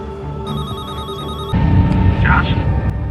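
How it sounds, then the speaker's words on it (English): A telephone rings in a dramatic film scene, a steady electronic trill held for about a second under dense background sound, then cut off as louder noise and a brief voice take over. "Unpredictably, Victor is the one who picked up the phone, not Jocelyn."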